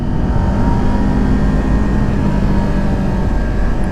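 2020 Kawasaki Ninja 400 motorcycle engine with heavily muffled stock exhaust, a steady droning hum held at constant revs under wind noise for the whole stretch.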